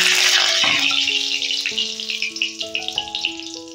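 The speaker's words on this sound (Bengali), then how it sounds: "আমি চিকেনগুলো নামিয়ে নিয়ে ওই কড়াতেই ফোড়ন দিয়ে দিচ্ছি। প্রথমে তেজপাতা দিয়ে দিচ্ছি," A bay leaf dropped into hot oil in a wok to temper spices for chili chicken makes a loud burst of sizzle at the start that fades, while sustained, stepping musical tones play over it.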